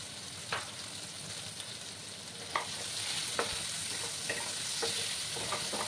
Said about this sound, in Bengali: সেই পেঁয়াজটা দিয়ে দিলাম। একসঙ্গে ভাজা হতে থাকবে।